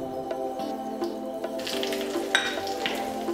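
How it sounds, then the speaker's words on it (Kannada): Mustard and cumin seeds sizzle in hot oil for a tempering for Andhra pappu, a steady close crackling fry with small pops and bursts of spattering, with no voices. "ಸಾಸಿವೆ, ಜೀರಿಗೆ, ಕರಿಬೇವು ಹಾಗೂ ಒಣಮೆಣಸಿನ್ಕಾಯಿ ಅಷ್ಟನ್ನು ಈಗ ಒಗ್ಗರಣೆ ಹಾಕ್ಕೊಳ್ಳೋಣ."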